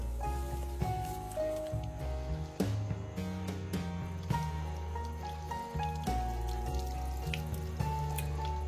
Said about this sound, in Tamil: இப்போ தண்ணியை ஊற்றி நல்லா கழுவிக்கலாம்.